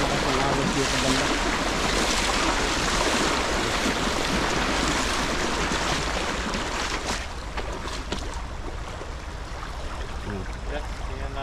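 A strong river current rushes and churns steadily near a bank, a loud broadband wash of flowing water that eases slightly toward the end.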